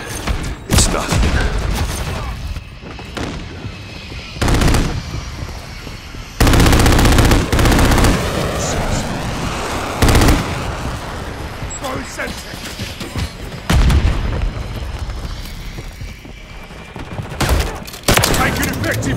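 Gunfire in the video game Modern Warfare 3: loud, repeated bursts and single shots, with heavy blasts breaking through steady battle noise over about twenty seconds while voices shout under the shooting.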